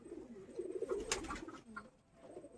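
A racing pigeon kept indoors coos softly in a short, low, throaty burst, close by and quiet, with no other sounds around it.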